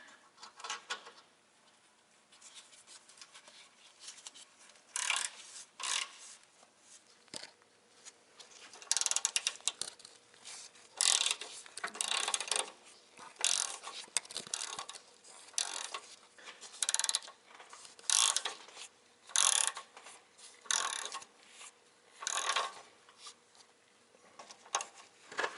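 Continuous ratcheting of a speed wrench working the back strut nut on a rusty rear strut of a 2004 Ford Explorer 4x4, close up, with a run of rapid clicking bursts growing steadier and louder over time.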